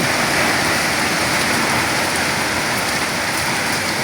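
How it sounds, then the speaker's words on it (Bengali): Heavy rain pours in a storm in Manikganj, with hail reported falling, a dense, loud, unbroken roar of drops with no pauses or voices. "প্রচুর ঝড় বৃষ্টি হইতেছে, প্রচুর।"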